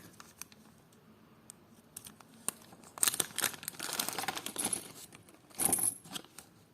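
A plastic packet of vintage clip-on earrings crinkles and rustles up close in bursts, starting with light scattered taps and growing busier and louder toward the end.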